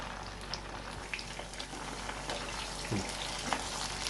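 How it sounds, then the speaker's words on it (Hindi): Soya chunks deep-frying in hot oil over a medium flame give a steady, dense sizzle with light crackles and a few sharper pops, continuous and fairly close, with no talking. "ये हमारी मीडियम फ्लेम पे फ्राई हो रही हैं"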